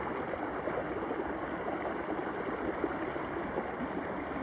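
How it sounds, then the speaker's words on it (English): A clean spring stream runs in the Connecticut woods, a steady broadband rush and trickle of water close by, continuous and even throughout with no voices. "springs, rivers running everywhere"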